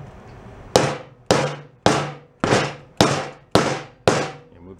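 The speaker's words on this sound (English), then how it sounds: "Let's just see if we go in with the nylon hammer." A nylon hammer taps a worn Honda Trail 70 motorcycle wheel rim during repair, seven sharp ringing strikes spaced about half a second apart, each decaying quickly, close and loud.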